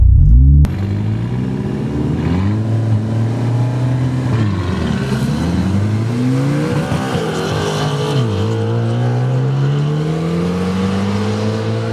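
A Hyundai Elantra with a 3-inch exhaust cutout accelerates hard on a drag run, engine revving loud and close through several rising gear pulls with brief dips at each shift, no voices.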